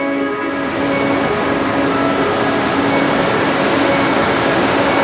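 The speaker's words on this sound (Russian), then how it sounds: "Так, проходим мост железный. Тут такой шум." Train on an iron railway bridge, a loud continuous metallic roar and rumble with faint steady tonal whines, close and unbroken throughout, without voices.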